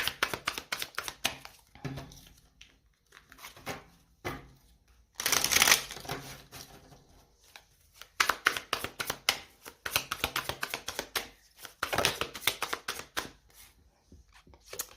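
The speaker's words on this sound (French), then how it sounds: "On va poser les 10 cartes." Ten tarot cards being laid out and shuffled by hand, with brisk repeated card slaps and riffles in uneven bursts, close and fairly quiet, with no talking.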